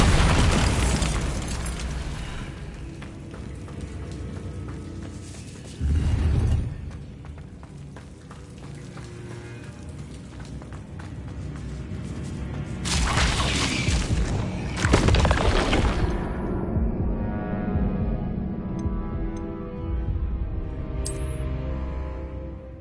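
Bombardo spell explosions in Hogwarts Legacy, several loud booming blasts with shattering bursts separated by quieter stretches of game ambience and music.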